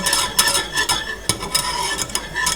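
Flour being stirred as it cooks in a pan for a vegan keto cauliflower mac and cheese: repeated scraping strokes of a utensil against the pan over a faint sizzle, close and rhythmic.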